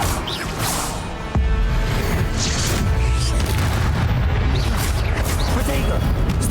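In Hogwarts Legacy, an Incendio fire spell goes off with a sudden loud boom and crackle, followed by a sustained roaring, rushing blast of flames, while a voice speaks over the game sounds.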